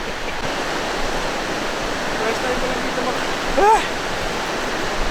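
Rushing stream flowing over rocks in the mountains of Kapangan, Benguet, a steady broadband water roar with a brief voice and a short whistle-like call partway through.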